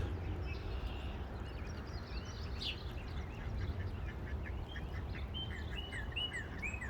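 Scattered duck quacks mix with chirping birds outdoors, a busy natural chorus with steady background hum and no talking.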